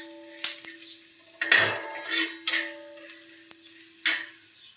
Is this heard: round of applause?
no